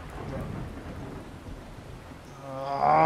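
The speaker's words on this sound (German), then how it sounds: "Ich will in den Regen. Ich will in den Sturm." In the Miscreated video game, a thunderstorm rolls low and distant while rain hisses steadily. The storm grows louder toward the end, and a voice cuts in over it.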